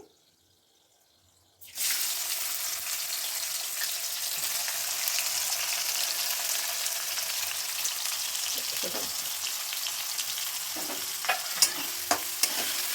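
Chopped onion dropped into hot oil for chicken ghugni, a sudden loud sizzle bursting out of silence and holding as a steady hiss, with a few stirring scrapes near the end.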